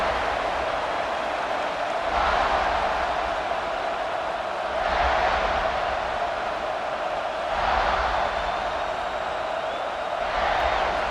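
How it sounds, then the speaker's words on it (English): Crowd noise fills a college football stadium in EA Sports College Football 26, a loud continuous roar that surges in regular swells every few seconds. "This crowd ready to make its presence known"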